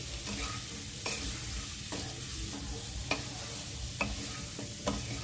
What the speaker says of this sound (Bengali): 1 চামচ হলুদ গুঁড়ো, 1 চামচ নুন দিয়ে দিচ্ছি, দিয়ে লাউয়ের সাথে ভালো করে মিশিয়ে নিচ্ছি।